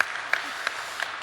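A church congregation gives the worship team a short burst of applause, a soft even patter of many hands with a few sharper claps, brief and at moderate distance.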